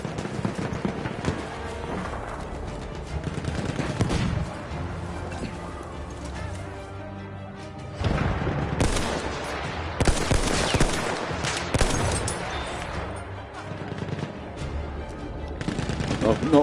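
Gunfire from a World War I battle in Battlefield 1, with dense rapid bursts and shots over a constant loud battlefield din, while voices talk throughout.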